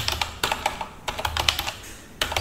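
Someone types a command on a computer keyboard in short clustered bursts of crisp, close keystrokes with brief pauses between groups.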